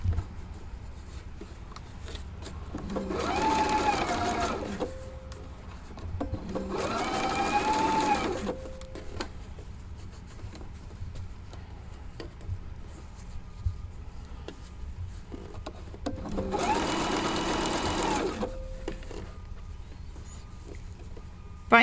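A Husqvarna Viking sewing machine stitches fabric piping over cord in three separate bursts lasting a couple of seconds each, with a rapid mechanical whir and quiet pauses between runs.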